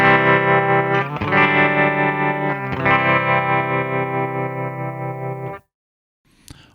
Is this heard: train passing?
no